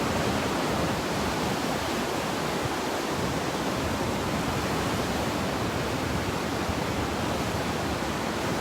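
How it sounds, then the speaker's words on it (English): Ocean waves break on a shore in a steady, loud, broadband roar that fills the whole stretch evenly, with no voices over it. "Can you hear me all right, or are the waves too loud?"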